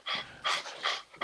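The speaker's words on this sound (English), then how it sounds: "yes, I'm hearing a dog." Close breathy panting from a dog, three or four quick rhythmic huffs with short gaps between them, carrying a faint whimpering tone, no voices.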